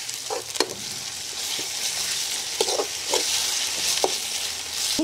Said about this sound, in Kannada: ಶುಂಠಿ ಬೆಳ್ಳುಳ್ಳಿ ಪೇಸ್ಟ್ ಅನ್ನು ಹಾಕೊಳ್ತಿದ್ದಾರೆ ಸೋ ಇದನ್ನು ಫ್ರೈ ಮಾಡ್ಕೋಬೇಕು